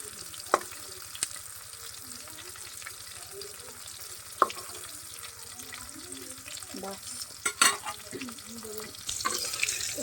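Shrimp fry loudly in a pan, a continuous close sizzle broken by scraping and sharp utensil knocks as they are stirred and flipped over.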